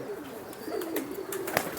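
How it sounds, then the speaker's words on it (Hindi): A pigeon coos up close in a low, vibrating, throaty tone, with faint bird chirps around it. "वाइब्रेशन बड़ी ज़बरदस्त है कबूतर की, ये आप नोट कर सकते हैं कैसे वाइब्रेट कर रहा है"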